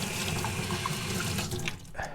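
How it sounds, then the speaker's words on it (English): Hot water from a freshly installed A.O. Smith electric water heater runs steadily from a tap into a sink, a continuous close rushing stream with no speech. "So we're just gonna turn the hot water on and test."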